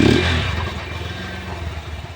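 A Honda Hornet 2.0 motorcycle with a modified silencer starts with a loud burst, then settles into a steady, throaty idle with a rapid pulsing exhaust beat, heard close and alone.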